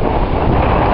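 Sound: strong wind blowing by the ocean

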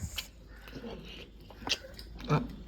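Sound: chewing and eating meat with bones

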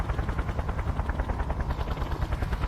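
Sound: helicopter arriving in the video game Just Cause

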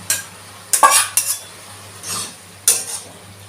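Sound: mixing shrimp potato masala into boiled cabbage

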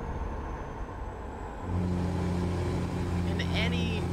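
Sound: truck engine revving in a video game

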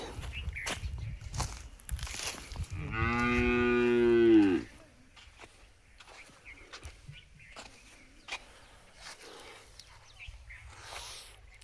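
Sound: cattle mooing on a farm

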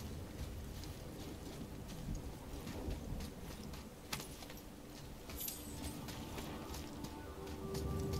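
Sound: storm rain and thunder in the video game God of War

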